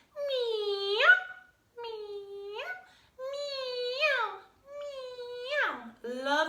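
A voice imitates a kitten's meow, giving four drawn-out, rising-and-falling meows in sequence with short gaps between them, clear and close.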